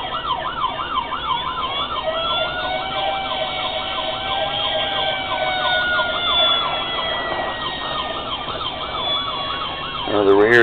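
The siren of a diecast Detroit Fire Department aerial ladder truck model wails steadily in fast, warbling cycles, a thin electronic tone running continuously and fairly loud until a brief change at the very end.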